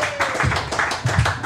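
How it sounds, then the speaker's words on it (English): A live podcast audience claps in a quick burst of applause, with short, uneven claps that sound fairly close. "Give yourself another round of applause."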